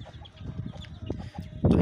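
Chickens of a chosen good breed cluck close by on a small poultry farm, soft broken clucks scattered through the moment, ending in a louder, sharper burst of noise.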